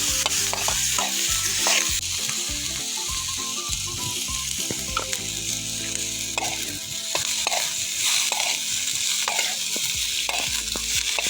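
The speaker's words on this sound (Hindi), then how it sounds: "फिर हमने सबसे पहले तो बटर ऐड कर लिया था, फिर प्याज और शिमला मिर्च डाल दी थी।" Chopped onion and capsicum fry in butter for a pasta tadka, with a steady loud sizzle and repeated clattering stirs and scrapes in the pan throughout, close and continuous.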